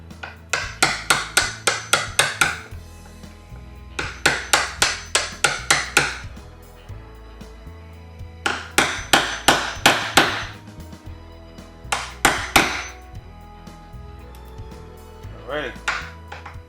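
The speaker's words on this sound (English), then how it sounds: "So we're going to chisel down." Hammer blows drive a chisel into a door frame to cut a recess for a strike plate, falling in rapid bursts of sharp, close knocks separated by short pauses.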